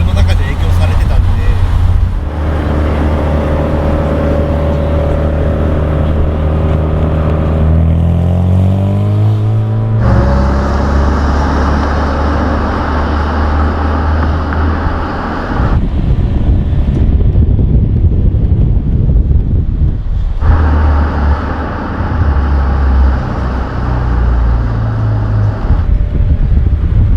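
A Mazda RX-7 with a rotary engine, built in VeilSide body style after the Fast & Furious Tokyo Drift car, is heard driving from inside: loud engine drone rising in pitch through acceleration, with shifts, road roar and wind noise.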